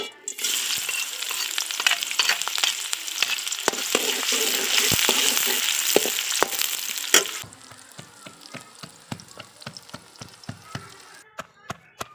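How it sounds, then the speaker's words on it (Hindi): Finely chopped onions hit hot ghee with a loud, steady sizzle and scraping stirs for about seven seconds, then the frying drops to a quieter crackle with scattered ticks and spoon knocks. "तो घी हमारा गर्म हो चुका है, इसमें शामिल करेंगे 2 अदद बारीक कटे हुए प्याज"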